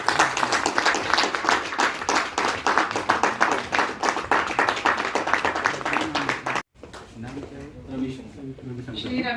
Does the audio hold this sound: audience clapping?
yes